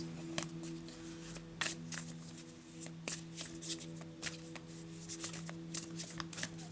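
Tarot cards shuffled and drawn by hand: a continuous close riffling and flicking of cards with soft bursts of handling, quiet and uninterrupted by talk.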